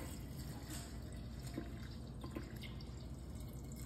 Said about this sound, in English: we're gonna do some lemonade. We're just gonna pour that right in there.